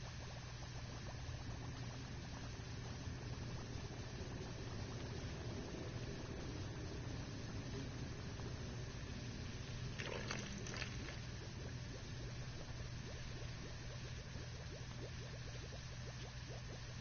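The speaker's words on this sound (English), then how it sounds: "The bubbling noises are very nice." Steady bubbling and sloshing of water from a subway cleaning machine working along the track, a continuous churning wash with a brief splashy burst partway through.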